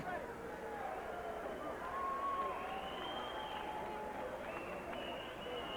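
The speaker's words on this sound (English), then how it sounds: "let's have a round of applause for both fighters" A boxing arena crowd applauds both fighters after a knockout bout, a steady roar of clapping and cheering that holds at a constant level, with a few whistles and shouts rising above it.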